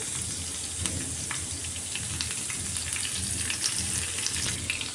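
Cumin, asafoetida and a green chilli tempering in hot refined oil for dal, a steady dense crackling sizzle with scattered pops, close and fairly loud with no talk.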